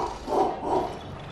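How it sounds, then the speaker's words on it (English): A dog in the background gives two muffled, moderately loud barks about a third of a second apart while a game plays indoors. "He literally has a problem with barking."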